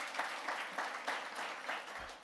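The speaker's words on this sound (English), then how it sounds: "can we have another round of applause for those reflections?" Applause at an annual memorial lecture, a brief, fairly quiet burst of clapping from the hall that pulses unevenly for about two seconds with no voices.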